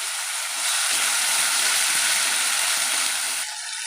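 Chopped tomatoes dropped into hot ginger-spice paste for a mustard chicken posto dish, loud steady sizzling with a brief clatter as they hit the pan.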